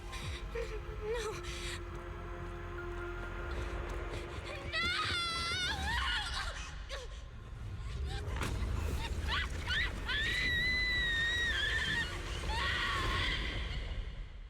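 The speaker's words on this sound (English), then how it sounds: "That scream was frightening." Frightening scream in the video game Zenless Zone Zero, a long wavering high cry rising and breaking over a dense music and effects bed, with voices talking through it.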